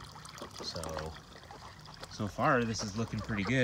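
Filtered water returns into a duck pond with a steady pouring trickle, heard close under someone speaking throughout.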